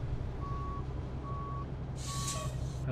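Three evenly spaced reversing beeps from a truck in American Truck Simulator over a low, heavy engine drone, with a short hiss of air brakes near the end.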